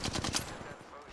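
Rapid automatic gunfire in the video game Apex Legends, a close burst of loud cracking shots in the first half, tailing off into fainter game noise.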